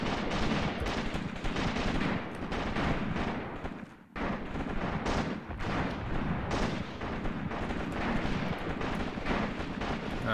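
Gunfire and artillery in the WWII tactics game Graviteam Tactics, set at Shilovo in 1942: dense, continuous rattling bursts and heavy booms overlap loudly, with a brief lull midway before the barrage resumes.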